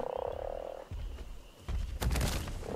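A frog in the survival game Ark Survival Evolved on The Island map gives a few deep croaks mixed with game thumps and footsteps, moderately loud with no talking.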